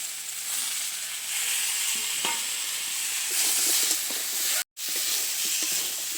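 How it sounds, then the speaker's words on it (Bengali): Green tomatoes and green chillies fry with potatoes for a braised fish curry. A loud, continuous sizzle is broken by occasional stirring scrapes and a brief sudden dropout, with no one speaking. "কাঁচা টমেটো দিয়ে আমি আরও একটু কষে নেব আর সাথে দিয়ে দিচ্ছি কাঁচা লঙ্কা"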